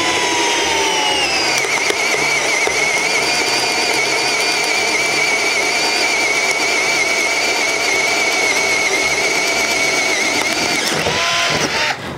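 A Milwaukee drill with a 1/8 inch bit bores into wood about 5 cm thick, a loud, steady high-pitched motor whine that holds evenly for about twelve seconds before winding down.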